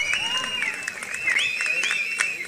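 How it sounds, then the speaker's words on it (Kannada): A crowd at a Kambala buffalo race in Mangalore breaks into applause, steady clapping that carries on beneath a loud announcer's voice over a public address system. "ಅವರ ಚಪ್ಪಾಳೆ ತಟ್ಟಿದ್ದಾರೆ"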